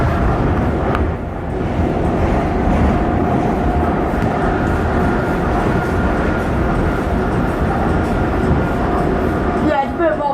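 Docklands Light Railway driverless train riding toward Beckton from Tower Gateway, a steady, loud rolling rumble with faint rail hiss that holds throughout, heard from inside the carriage.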